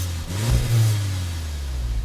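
A 2015 Volkswagen Golf TSI SEL with a 1.8-liter turbocharged four-cylinder and six-speed automatic accelerates, its engine note rising to a loud, steady drone heard close up with no talking.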